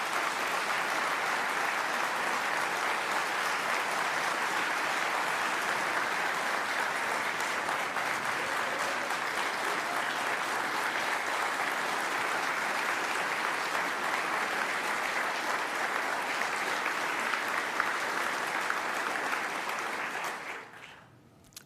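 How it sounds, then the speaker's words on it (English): Audience applause from a crowd at a Medal of Honor ceremony, loud, dense sustained clapping continuing for about twenty seconds before quickly fading out, with no talk over it. "Yeah, you can clap for that."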